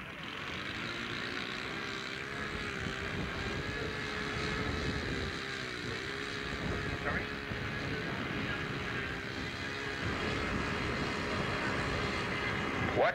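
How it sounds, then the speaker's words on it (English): A four-engine propeller aeroplane takes off at an air display at Woodvale in 1986, a steady distant engine drone with a faint wavering tone running throughout, heard over crowd noise and faint talk. "What a remarkable aeroplane, all four engines."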